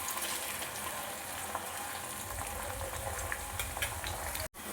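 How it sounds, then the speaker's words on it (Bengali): Capsicum pieces fry in hot oil in a pan for fried rice, giving a steady, soft sizzle and crackle that runs unbroken before cutting out briefly near the end. "এবারে ক্যাপসিকামগুলো ভেজে নেব"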